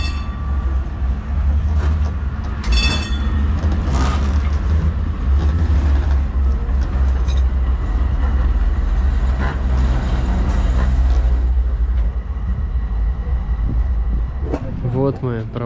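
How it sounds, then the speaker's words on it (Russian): A tram rumbling around a turnaround loop in central Antalya, a loud continuous low rumble with rail squeal near the end, while people talk nearby. "это оказывается этот, видите, разворот трамвая"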